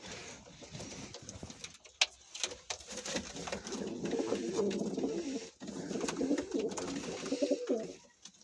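Pigeons in a loft coo steadily through the whole stretch, several birds overlapping in a soft, continuous murmur with a few sharper wing or perch sounds, fairly close and without speech.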